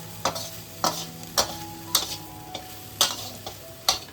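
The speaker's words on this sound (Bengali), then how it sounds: "পুরোপুরি কলমি শাকটা আমাদের ভাজা হয়ে গেছে।" Water spinach (kalmi greens) being fried in a pan is stirred with regular scraping strokes, about one every half second, each a crisp close scrape over a faint steady hum.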